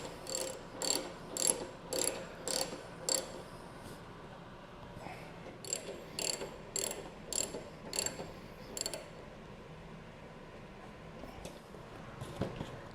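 A hand ratchet snugs up the bolts of a Mustang seat being fitted to a Honda Shadow Phantom motorcycle: two rapid runs of crisp, evenly spaced clicks, then a few scattered single clicks, close up with no talk.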